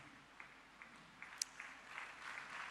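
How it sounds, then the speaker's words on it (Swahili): A church congregation claps in a faint, sparse burst of applause, with a few distinct hand claps standing out over a low room hum, fairly distant. "Hayo makofi hayatoshi"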